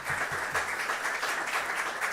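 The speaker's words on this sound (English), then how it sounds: "so if we can please give you a round of applause" Research conference audience applauds a speaker after a talk, a continuous, moderately loud patter of many hands clapping from across the room, steady throughout with no talk.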